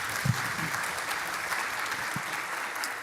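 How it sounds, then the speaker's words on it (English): Sustained audience applause at a tech hackathon closing ceremony, a dense, steady wash of many hands clapping from start to finish with no voices over it. "Please give him a big round of applause."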